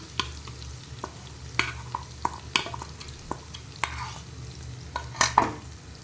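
A spoon stirs a yogurt mixture into fried spiced okra in a pan, giving irregular scraping clicks and knocks against the metal over a faint low sizzle, close up with no talking.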